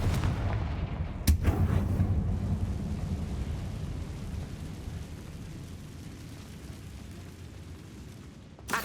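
A blasting fire spell in the game Hogwarts Legacy sets off a sharp explosive crack followed by a deep rumbling boom that slowly fades, with a second faint burst at the very end.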